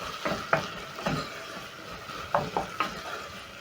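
Coriander stems stirred into a sizzling pot of bean stew, with a spoon scraping the pot in several short bursts over a steady frying hiss, close by.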